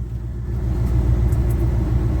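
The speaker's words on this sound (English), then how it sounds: "I got to do work on the blower motor" A weak car heater blower motor runs as a steady low rumbling hum close by, with no speech, holding an even level throughout.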